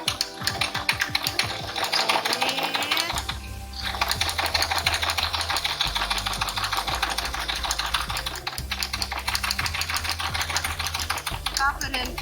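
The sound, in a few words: sewing machine stitching a pocket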